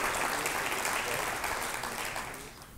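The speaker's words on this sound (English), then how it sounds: "Give yourself a big round of applause" Applause from an audience at a health pitch event, a dense steady wash of clapping that fades slightly toward the end.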